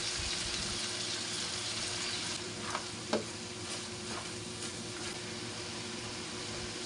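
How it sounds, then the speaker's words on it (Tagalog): Tomatoes and oyster sauce sauté in a pan for squid adobo, a steady close sizzle with a few light stirring clinks and scrapes, no voices. "igisa na rin natin yung kamatis"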